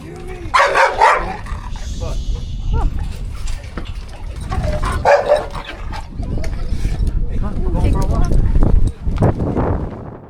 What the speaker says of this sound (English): So he started barking at her